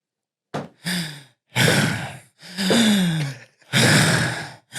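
A man imitates heavy breathing, producing several long, loud rasping breaths in a row, each a drawn-out sigh-like exhale separated by brief pauses, up close and alone.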